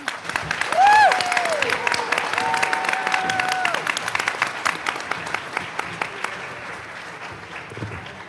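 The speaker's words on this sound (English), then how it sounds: "Let's give them one more round of applause." A round of applause breaks out at a school board meeting, a room of people clapping steadily with a few whoops and cheers early on, then slowly thinning out toward the end.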